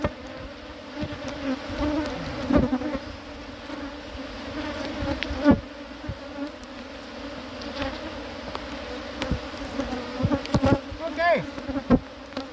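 Honeybees drone steadily around an open hive during an inspection, a continuous layered buzz with individual bees flying close past, and a single brief spoken word partway through.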